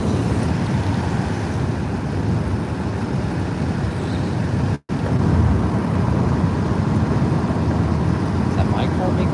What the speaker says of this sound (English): Is that my car making that noise?